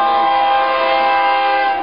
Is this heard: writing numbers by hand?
no